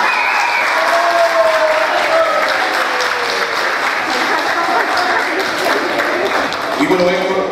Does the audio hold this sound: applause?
yes